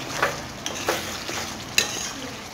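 Masala for Lahori chicken being stirred in a pan, with a soft steady frying sizzle and a few light scraping strokes of the spoon, close and fairly quiet, no talking.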